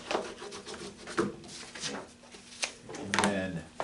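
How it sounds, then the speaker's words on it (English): Book boards for a mini-book being burnished by hand, giving a series of soft, close rubbing and scraping strokes in an uneven rhythm with brief taps between them. "I'm going to go ahead and burnish those."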